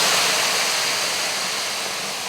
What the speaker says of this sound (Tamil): இப்போ இதில் தண்ணி சேர்த்துருவோம்.